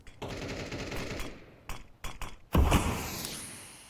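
Pistol gunfire in a Counter-Strike match: quick sharp shots in rapid bursts, several separate cracks, then a louder close blast near the end, with no talk.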